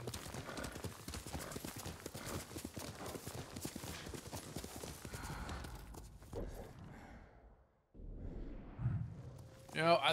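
A horse in the video game Ghost of Tsushima on PS5 gallops with steady, rapid clip-clop hoofbeats and snorting. The hooves continue up close for several seconds, then fade, and a brief whinny-like sound follows.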